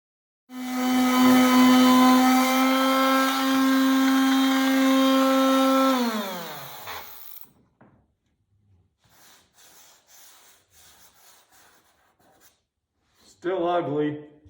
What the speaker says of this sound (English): This 80 grit on the mouse sander is really tearing into this.